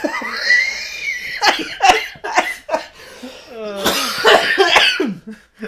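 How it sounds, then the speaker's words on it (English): Coughs burst out amid loud laughter and excited voices, close and jumbled together, several bouts over a few seconds. "I'm fighting off a cough just now"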